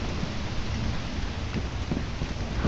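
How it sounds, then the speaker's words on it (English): Steady rain falling in the Lethal Company video game, a dense, continuous hiss of drops with faint low rumbles mixed in, no voices during the stretch. "Oh, yeah, it's rainy."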